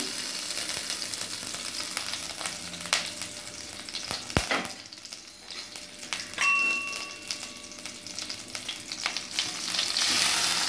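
Butter and a little oil sizzling and frying in a hot kadai, a steady crackling hiss with occasional metallic clinks of a utensil against the pan.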